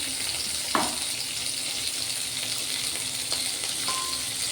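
Sliced onions, garlic cloves and ginger frying in a little oil in a pan, a continuous close sizzle with a couple of faint clinks from stirring.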